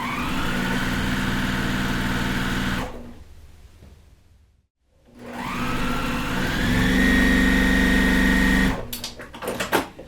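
A sewing machine chain-pieces quilt block pieces for a flower pot block, its motor whirring steadily in two close, loud runs separated by a brief pause, with no talking.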